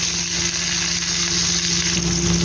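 Garlic, ginger, chili and onion sauté for shrimp sinigang, giving a steady close sizzle with no pauses, backed by a constant low electrical hum.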